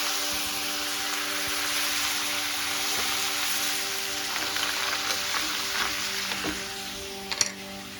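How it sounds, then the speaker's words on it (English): Mussels and garlic sizzle in a hot pan, a steady close crackling hiss running throughout with a few sharper pops near the end. "I'm throwing in all the mussels."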